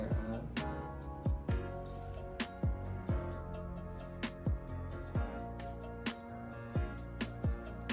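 Water is poured sparingly onto a potted plant with root rot, giving a run of soft drips, squishes and splashes into soil at a steady, irregular pace, close and fairly quiet.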